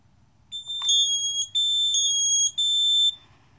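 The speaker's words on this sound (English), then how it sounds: "So this one tripped, I could hear it." A hardwired 120-volt interconnected FireX smoke alarm shrills in three loud, piercing blasts separated by brief gaps, over a faint low rumble.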